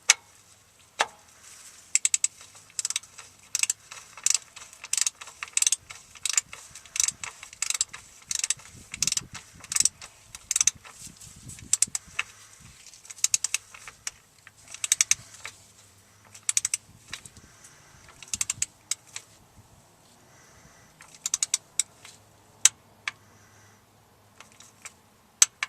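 A ratchet torque wrench clicks in repeated quick bursts while bolts on the transfer case of a 2000 Ford F-350 are torqued down, close and crisp, with brief pauses between strokes.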